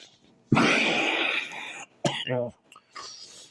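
One harsh, drawn-out cough is followed by a short throat-clearing rasp and a softer breathy sound, all close and loud.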